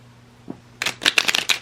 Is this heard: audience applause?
no